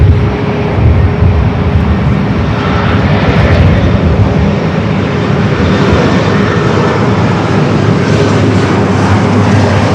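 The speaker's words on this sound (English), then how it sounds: "It's an A330-300." Airbus A330-300 airliner, Delta, arriving at LAX: a steady, loud, broadband engine roar that holds evenly throughout with no pauses, heard alone.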